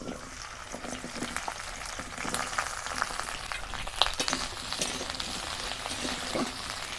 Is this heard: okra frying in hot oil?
yes